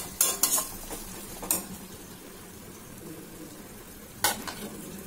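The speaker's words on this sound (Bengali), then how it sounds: "এবার আমি চিংড়ি মাছের মালাইকারির মধ্যে দুধটা ঢেলে দিলাম, দিয়ে নাড়াচাড়া করে দিয়ে গ্যাসের ফ্লেমটা বাড়িয়ে দেব।" Milk poured into a simmering prawn malai curry, then stirred in a pan with sharp metal scrapes and clinks standing out over a low, steady sizzle, alone without talk.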